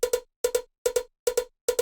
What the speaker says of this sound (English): And then there's also this percussion sound, which is a cowbell